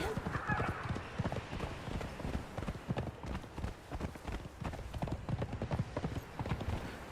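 Horse hooves clip-clop steadily in Conan Exiles, a dense, fast run of hoofbeats from a mount ridden across terrain, with a voice talking over them throughout.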